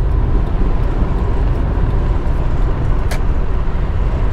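A 2001 Honda Accord EX V6 with a misfire problem cruises at 70 mph on a highway, giving a steady, loud broadband road and engine roar that holds unchanged throughout, with no one talking.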